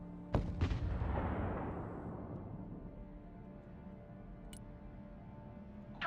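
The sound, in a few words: gunfire from units engaging targets in Broken Arrow video game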